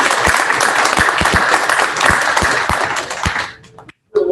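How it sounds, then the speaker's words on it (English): Audience applause at a school business plan competition, a loud, dense wash of clapping with a few sharper claps standing out, fading over the last second and then stopping. "let's give them all a round of applause"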